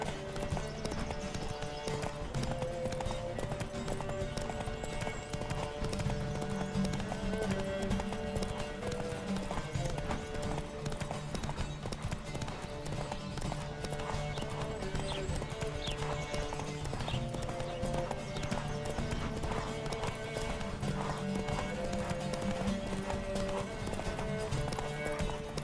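Steady rhythmic clip-clop of galloping horse hooves in the video game The Witcher 3: Wild Hunt, over a constant music bed, with an occasional whinny, continuous and unbroken throughout.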